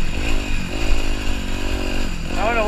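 Dirt bike engine droning steadily and close while riding around dirt hills and hill climbs, with harmonic tones shifting as the throttle changes and a rising whine near the end.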